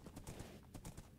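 Horse hooves clip-clop at a steady walking pace in Minecraft, a quick series of faint, evenly spaced hoofbeats with no talk.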